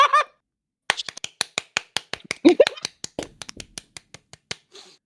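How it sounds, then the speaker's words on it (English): A slow, sparse golf clap: about a dozen light handclaps close by, unevenly spaced, following a brief laugh at the start and fading out at the end. "You get a golf clap for that"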